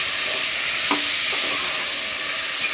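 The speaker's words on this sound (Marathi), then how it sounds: "हलवून घ्यायचं मिक्स करून तेलामध्ये" Garam masala spices crackle and sizzle in hot oil while a spoon stirs, with a few soft scrapes against the pan, while cooking rajma.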